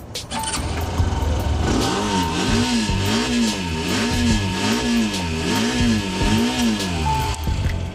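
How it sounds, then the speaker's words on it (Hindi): A Hero Xtreme 125R motorcycle engine revs repeatedly, rising and falling in a steady rhythmic pattern over a rough idle, loud and close. "एक्सट्रीम 125R का जो प्रॉपर साउंड है वो आपको कुछ ऐसा मिलेगा"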